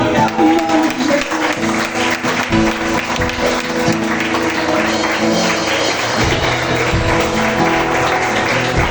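A church congregation applauding during a worship service, loud sustained clapping from a large crowd with a dense wash of hands over background music, continuous throughout.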